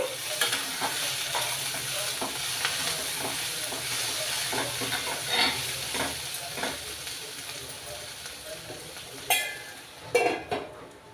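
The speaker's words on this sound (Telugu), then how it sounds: "ఇలా మధ్య మధ్యలో కలుపుకుంటూ ఒక ఐదారు నిమిషాలు వేయించుకోవాలి" Green beans frying and sizzling in a pan for a bean and tomato curry, with steady close sizzle and repeated scraping stir strokes, a few louder clanks of the spatula near the end, no talking.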